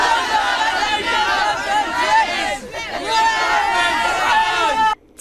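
Dense crowd chatter from tourists packed into Trafalgar Square in central London beside the Olympic countdown clock, a busy outdoor babble of many overlapping voices close by, ending abruptly.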